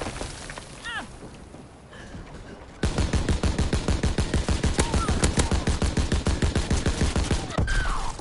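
A Browning machine gun in Call of Duty: WWII multiplayer fires a long, loud, rapid sustained burst after a quieter stretch of distant gunfire and battle noise.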